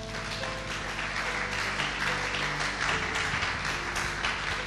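A church congregation applauds together in a sustained, dense wash of clapping, steady and fairly loud throughout, with music or voices faintly beneath.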